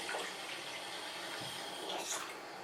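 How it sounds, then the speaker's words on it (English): Cold tap water runs steadily through an Aqua Ionizer Deluxe 7.0 water ionizer that is leaking, giving a continuous close, fairly loud hiss and splash with no speech. "the water's going through the unit out and I'm leaking."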